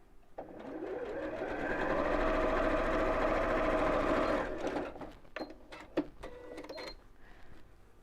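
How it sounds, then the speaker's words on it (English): A sewing machine stitches a seam with a steady whirring run of about four seconds, then stops and gives several short bursts and clicks, as for back stitching, with no talk over it. "remember to do that back stitching to make the seam nice and strong"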